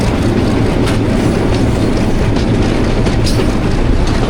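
The Millat Express rolls past on a Pakistani branch line, a loud, close, steady roar of wheels and carriages with rhythmic rail clatter throughout and no voices.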